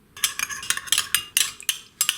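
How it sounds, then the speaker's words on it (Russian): Egg yolk and a spoonful of milk are beaten with a fork or whisk in a bowl for glazing croissants, a quick series of bright clinking taps against the dish, close and irregular with no talk. "Взбалтываю все хорошо."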